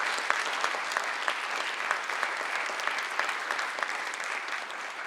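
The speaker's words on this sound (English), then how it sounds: "I just want you all to give another round of applause." An audience breaks into steady applause at a National Hunger and Homelessness Week event, a dense, even patter of many hands that holds at a fairly distant, moderate level for the whole stretch.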